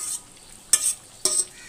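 Chickpeas go into sizzling masala in a pot for aloo chole biryani, giving two short bursts of crackling sizzle, each dying back to near quiet.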